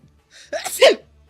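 A single sharp sneeze from a person, close and fairly loud, with a quick inhale leading into the burst and quiet afterward.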